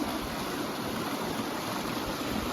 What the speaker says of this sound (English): We are starting out with our first river crossing.